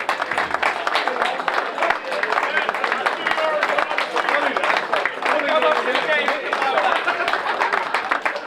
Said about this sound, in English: Big round of applause for Annette